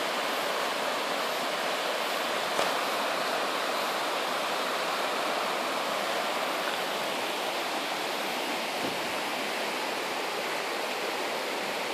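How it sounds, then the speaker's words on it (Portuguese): Water still running where a washed-away bridge once stood, a continuous broad rushing roar like a stream or small waterfall, steady and fairly loud with no voices. "E a água ainda está correndo ainda."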